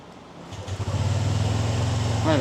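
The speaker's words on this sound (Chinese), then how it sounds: "發動看看會不會亮引擎燈" An older Kymco RTS R165 scooter with an upgraded electric-injection ECU cranks and catches, then settles into a steady low idle, close up, with someone speaking over it near the end.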